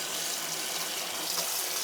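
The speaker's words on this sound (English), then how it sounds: "Fill the sink up, and then chuck the awning rail protector in." Steady stream of tap water filling a sink with the plug in, a close, continuous broadband rush with no pauses.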